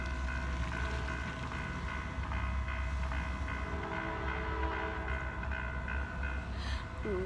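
A train rumbles past at a distance with a low, steady roar and rhythmic wheel clatter, fairly faint, with no talking.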